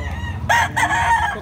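A gray yapon bullstag rooster crows loudly and close by at a public market, one full cock-a-doodle-doo call over a low background hum.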